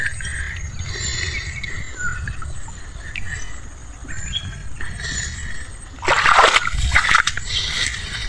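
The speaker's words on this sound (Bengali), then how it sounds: "এতগুলো মাছ আমি এই খুলছি আশা করিনি দেখেন আপনারা লাফাচ্ছে মাছগুলো" Freshly caught fish in a trap flap and splash in water, with light scattered sloshing growing into a louder burst of thrashing splashes near the end.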